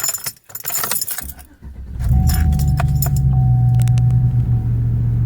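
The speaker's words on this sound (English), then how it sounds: "when I started my truck" A 2007 Chevy Silverado truck engine starting just after a new throttle body was fitted: keys jangle, a brief cranking, then the engine catches and settles into a loud, steady, close-up idle rumble.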